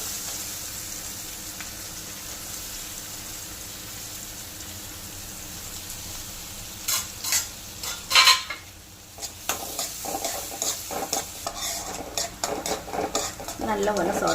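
Chopped onion and a small green chilli sauté in a pan, a quiet steady sizzle with a spoon stirring and scraping against the pan in irregular clinks during the second half.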